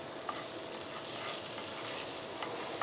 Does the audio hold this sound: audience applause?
no